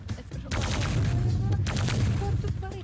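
Rapid gunfire from the Quake Arena video game, bursts of shots and booms crowding together loudly and close, with people talking over the shooting.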